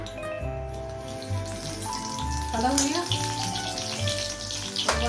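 Dry red chili and cumin seeds dropped into hot mustard oil in a kadai, giving a steady close sizzle and crackle that swells briefly midway and holds at moderate loudness throughout.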